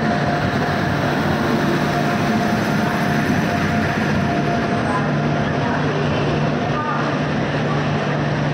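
Train pulling into Ranchi railway station, a steady loud rumble of wheels and engine with a constant hum throughout, without pause, under a noisy station atmosphere.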